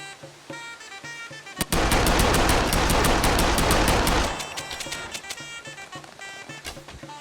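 Rapid automatic gunfire in the survival game SCUM, a loud sustained burst of dense shots followed by scattered single shots and softer thuds that may be bow releases.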